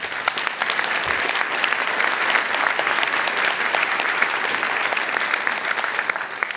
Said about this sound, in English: Maybe you can give them an extra applause